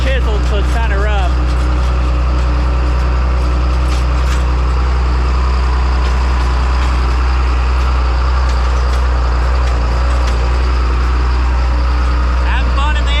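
A John Deere 8300 tractor runs in 14th gear at about 7 mph across rough chiseled field ground, giving a steady, loud, close engine drone with strong low rumble that holds through the whole stretch.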